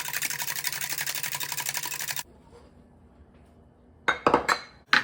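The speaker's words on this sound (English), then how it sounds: "Whisk it all together." Eggs whisked with lemon juice for blueberry muffin batter give about two seconds of rapid, close, rhythmic clinking against the bowl. A quiet pause follows, then a few loud clattering knocks.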